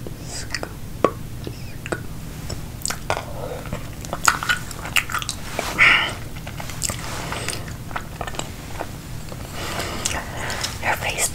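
Close ASMR mouth sounds of eating while scooping with a wooden spoon: wet clicks, crunchy bites and chewing under soft whispered speech, in irregular bursts throughout.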